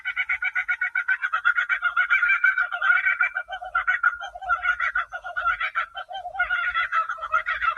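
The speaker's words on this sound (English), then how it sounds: "Laughing Kookaburra." A laughing kookaburra, an Australian native bird, calls at a botanic garden in a long, rapid, rolling cackle of chuckling notes that rises and falls for several seconds, clear and fairly close.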